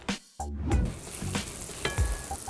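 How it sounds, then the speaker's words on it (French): Walnut liqueur hits a hot pan of pears, bursting into a loud, close sizzle with crackling spits and stirring scrapes that continue throughout. "Et Cédric, je vais te demander de verser un petit peu d'alcool de noix dans la poêle, s'il te plaît."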